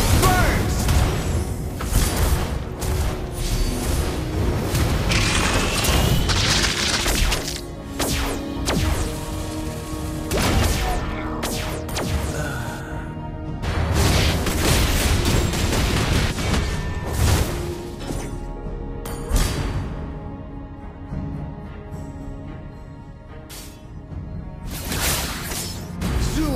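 Lava Burst fire skill explosions from the hero Valir in a video game, a dense run of loud booms, crashes and whooshes in rapid bursts, with game voice lines mixed in.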